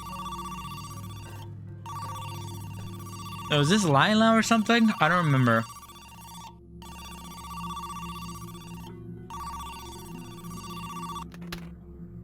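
Classic Nokia brick phone ringtone from a 2000s handset playing inside a spooky video game, a repeating electronic melody in bursts with short gaps, briefly covered by someone talking partway through.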